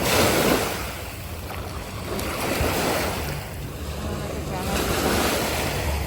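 Sea waves wash on a beach in the United Arab Emirates, a steady broadband surf roar with gentle swells, mixed with wind noise on the microphone.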